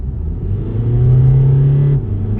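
A VW TDI diesel with a big Xman Turbos CR170 hybrid turbo and Tunezilla Stage 3 tune pulls hard in a 50-120 roll, a loud, steady droning engine note that swells, holds, then drops off abruptly.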